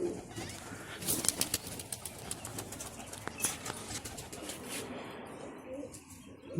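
Pigeons coo steadily in a loft, their soft murmuring mixed with wing flaps, rustling and scattered knocks across a busy, close background.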